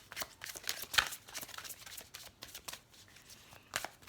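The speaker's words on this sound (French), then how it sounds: "Alors on va tirer la carte pour les Verseaux" Tarot cards being shuffled by hand in a series of quick riffling, flicking bursts with small gaps between them, close up and fairly soft, with no talking.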